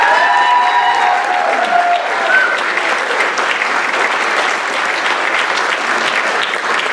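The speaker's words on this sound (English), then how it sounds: "A big round of applause for our set design and stage director, Ken Langlos." A community theatre audience applauds at a curtain call after a stage play. The clapping is loud and sustained, with a touch of cheering early on, and it continues evenly for about seven seconds.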